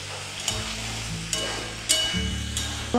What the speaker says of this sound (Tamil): உருளைக்கிழங்கு வந்து பாதி வதங்கிடுச்சு.